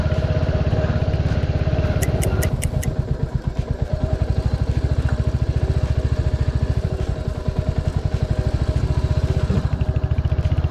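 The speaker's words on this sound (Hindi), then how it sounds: "सुबह सुबह ऐसे खुले मैदान में बाइक चलाने का एक्सपीरियंस भी काफ़ी औसम है।" A Royal Enfield Hunter 350 motorcycle is ridden across open ground in the morning, near rough patches and potholed old roads, its single-cylinder engine thumping in a steady, close, loud rhythm that dips briefly and then picks back up.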